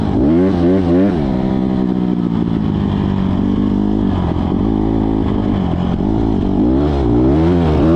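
A Honda dirt bike engine revs loudly and close outdoors in Northern Ontario, its pitch rising and falling in quick throttle blips before settling into a sustained roar.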